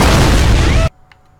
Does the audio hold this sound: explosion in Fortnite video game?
yes